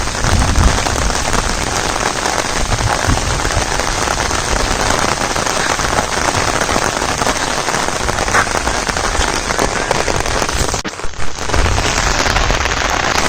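Monsoon rain pours steadily over a Kokan village, a dense, even hiss of drops on surfaces that continues throughout with a brief dip near the end.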